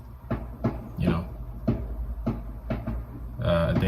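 Fireworks go off outside on bonfire night: a steady series of sharp, fairly faint pops and bangs about every half second, sounding distant through walls.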